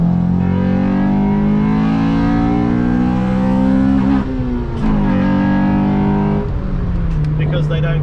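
A Honda EK4 with a VTEC engine revs hard, its induction roar climbing in pitch, dropping, then rising again in loud repeated pulls, with a voice talking faintly beneath.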